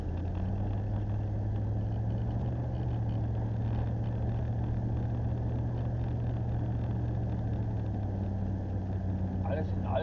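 A car drives steadily along a road between Zgorzelec and Löbau, its low engine hum and road rumble continuous and close throughout, with someone talking over it.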